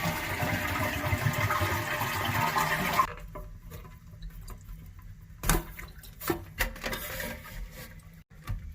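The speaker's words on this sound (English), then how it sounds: "Once you do that, flush the toilet." A toilet flushes with its water supply shut off: a loud rushing drain for about three seconds, then the tank goes quiet apart from a few faint clunks and drips.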